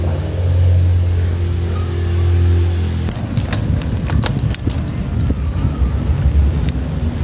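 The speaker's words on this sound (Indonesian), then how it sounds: "Kita nunggu sebentar, ada motor di sana ya" A motorcycle engine drones steadily on a narrow one-meter lane in south Bogor, then gives way to a rougher, broadband rumble as it passes close by.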